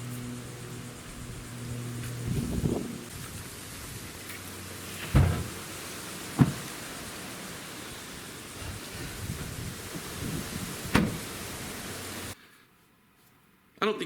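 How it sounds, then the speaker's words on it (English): A steady wash of rain and wind noise outdoors during a hurricane, strong wind with light rain, occasional thumps and gusts rising over the constant hiss. "It's a bit of strong wind, a little spittle of rain here and there."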